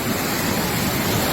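A flooded river in Maracas Valley, Trinidad, overflowing after a deluge, heard as a loud, dense, continuous roar of rushing water with no pauses.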